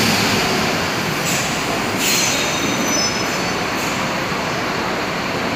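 A Cometa bus pulls into the São Bernardo do Campo bus station with a loud, steady rumble and hiss, and brief high brake squeals rise over it. No one speaks.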